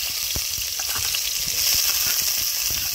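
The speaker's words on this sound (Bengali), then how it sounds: "তো এই পেঁয়াজটাকে আমরা একটু লাল করে ভেজে নেব" Onions sizzle steadily in a little hot oil for chicken kosha, a continuous bright frying hiss with occasional small pops and stirring taps, close and fairly loud, with no talking.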